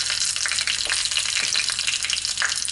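Dried red chilies and cumin frying in hot ghee give a steady, loud, close sizzle throughout, with faint stirring crackles and no voices.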